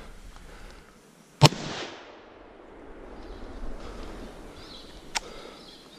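A single loud, sharp gunshot rings out during a sambar deer hunt outdoors and rolls away in a fading echo. A much fainter crack follows a few seconds later.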